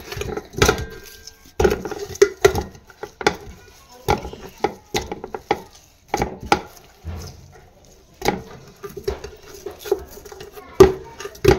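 Spices, green chilli, lemon, ground garam masala, red chilli and black pepper being mixed by hand in a bowl for steamed roast chicken, giving irregular close clinks and knocks against the bowl in spaced bursts with no talk.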